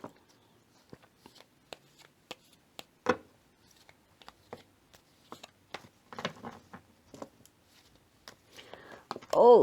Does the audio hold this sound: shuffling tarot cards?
yes